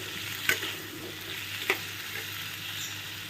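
Spices fry in a pan with turmeric and sugar, giving a faint, steady low sizzle close by. Two sharp clicks of a utensil stand out above the frying.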